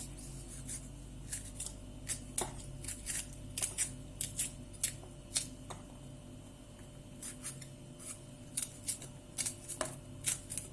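Peppers being chopped in a food chopper for Konya etli ekmek filling: a fast, irregular run of sharp, crisp clicking and whirring bursts close by, over a faint steady hum.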